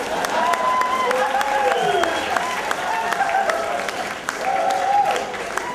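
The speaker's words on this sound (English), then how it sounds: "Clap now, eh?" An audience at a hockey club closing ceremony claps for a VIP patron, scattered claps sounding under a voice speaking over a public address system.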